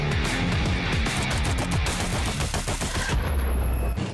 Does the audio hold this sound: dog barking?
no